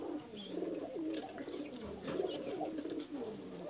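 Pigeons of a master-pair breeding loft coo in soft, repeated throaty calls, fairly close and quiet, continuing through the whole stretch with no talk.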